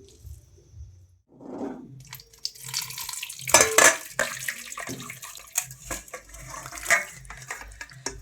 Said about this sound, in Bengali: এবার হলো বাসন ধোয়ার পালা